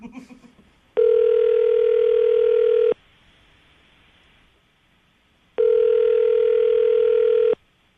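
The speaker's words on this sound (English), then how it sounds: "I'm going to dial the phone number right now" A telephone call goes through after a number is dialled, producing two long, loud, steady ringing tones separated by a quiet gap, heard alone without any talking.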